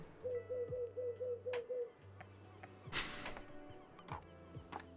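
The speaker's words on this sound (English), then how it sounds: "Just poking a seagull for audio listeners." A seagull in the video game Tiny Bookshop gives a soft, repeated cooing call against a quiet musical background, followed by a brief burst of noise and a few faint clicks.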